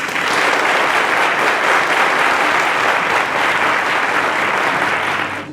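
Loud, steady applause from a large studio audience at a quiz show finale, sustained clapping that fills the whole stretch before fading slightly at the end.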